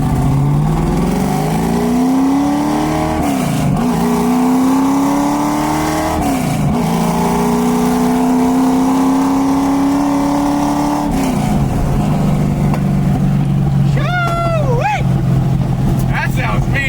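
A 1965 Ford Mustang with a new clutch, running cold, revs and accelerates loudly up close through several rising gear pulls. A voice talks over the engine.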